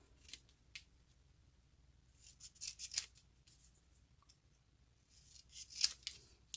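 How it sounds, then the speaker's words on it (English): Scissors snip through a piece of craft material for a gift-card shadow box, giving a few brief, crisp cuts at separate moments, quiet and close, with faint rustling in between. "now I'm just going to cut this piece down"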